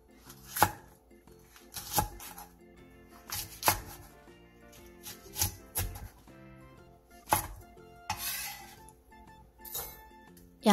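A kitchen knife chops Cheongyang green and red chili peppers on a cutting board, a series of crisp, close, irregularly spaced chops alone over faint background clatter.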